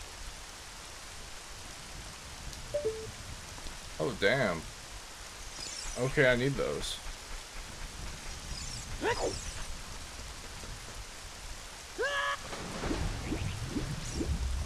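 Steady hiss of rain falling in the Zelda: Ocarina of Time video game, continuous and fairly loud, with short game sound effects and someone talking briefly over it.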